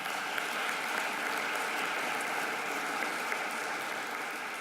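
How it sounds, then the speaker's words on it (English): An audience applauds striking low-paid workers at a union gathering, with dense, steady clapping that carries on evenly throughout and no voices over it. "You can clap them if you like."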